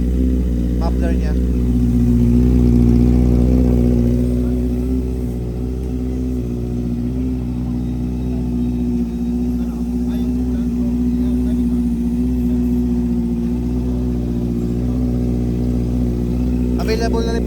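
A Honda CB650F motorcycle with a cat-delete underbelly Arrow muffler runs with a loud, steady mid-pitched exhaust drone and a brief rev swell near the start, while someone talks over it throughout.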